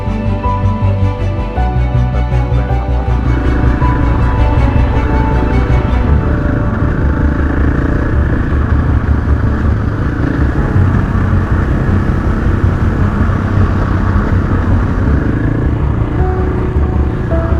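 Dirt bikes riding on an adventure trail, a loud close engine roar with shifting revs and gear changes, one steady rhythmic rev early on giving way to rougher rumbling throughout.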